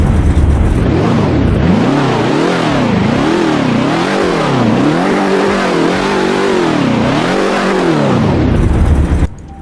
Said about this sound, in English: And now let's get started with the rev.